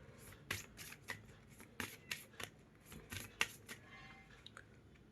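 Tarot cards shuffled and drawn by hand, a run of sharp close snapping and flicking bursts at an irregular rhythm, fairly quiet and with no speech.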